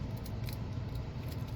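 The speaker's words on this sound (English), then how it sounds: "So we're just gonna actually use scissors to just very gently" Scissors snip and slide through the plastic shrink wrap of an album, a close, steady crinkling rustle with faint metallic ticks throughout.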